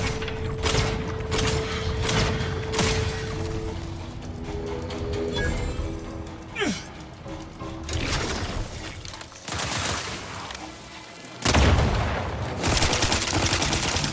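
Gunfire in The Outer Worlds 2: bursts of shots and mechanical clatter break out repeatedly at moderate loudness, with short gaps and a few sharp impacts between volleys.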